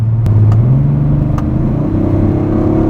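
An Audi RS5 with a 450-horsepower V6 gives a steady, throaty engine drone that climbs in pitch as it revs. It is driving on a smooth paved road on Pirelli P Zero tires, heard from the cabin without talking.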